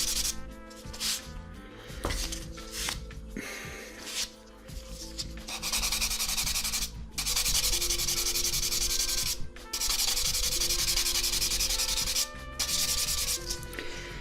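Sanding sticks rubbing over small plastic parts of a 1/72 scale FineMolds Savoia S.21F model kit, first in short separate strokes, then in longer, steady scratchy passes, close and quiet.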